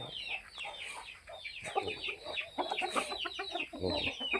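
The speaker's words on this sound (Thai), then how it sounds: "เป็นไก่ประดู" White-tailed Pradu Thai native chickens cluck busily up close in repeated short, overlapping calls, with no one speaking.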